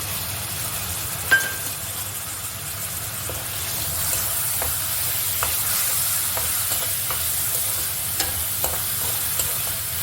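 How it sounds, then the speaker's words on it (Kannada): Chopped tomatoes frying in a pan for egg fried rice, a constant soft sizzle broken by clinks and scrapes of a spoon stirring, close and with no voices. "ಹೆಚ್ಚಿಟ್ಕೊಂಡಿರೋ ಟೊಮೆಟೊ ಹಾಕಿ"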